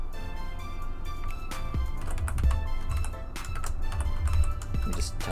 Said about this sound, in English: Let me just type in the password